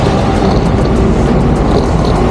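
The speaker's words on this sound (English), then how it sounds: "We made our way through the usual heavy traffic that you find around Midtown" Dense Midtown New York traffic close by while riding a Brompton folding bike among cars and buses, a loud, unbroken roar of engines and road noise.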